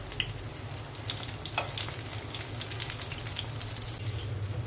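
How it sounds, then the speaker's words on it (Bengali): Eggplant fritters and fish deep-fry in a pan of hot oil, a loud continuous bubbling sizzle with scattered crackles and a low hum underneath, steady throughout. "ইত্যাদি ভাজা শুরু হয়ে গেছে"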